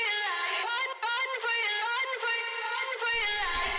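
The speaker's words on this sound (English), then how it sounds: "So yeah, the vocal chop with the reverb sounds like this." A pitched vocal chop repeats in a rhythmic electronic pattern, washed in automated reverb that swells and trails between hits, with a bass line entering near the end.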